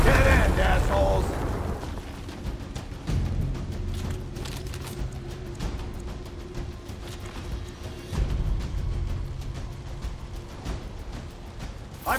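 A frag grenade explodes in the video game Gears Tactics, a sharp burst followed by a lingering rumble that stays loud under ongoing game noise.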